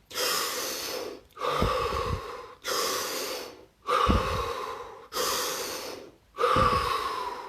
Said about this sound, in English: 3 deep breaths.